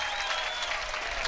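An arena crowd at a 2018 U.S. Open women's pro doubles gold medal match rises in a standing ovation after a long rally, thick sustained applause filling the space evenly from start to finish.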